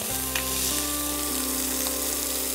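Capsicum with salt sautés in a pan, giving a steady, even sizzle that holds close and constant throughout, with faint stirring and no voices.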